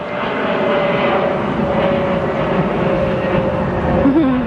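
A yellow airplane flies overhead at a park near Boston, its engine drone a steady, fairly loud outdoor rumble that holds throughout with a slight rise at the end.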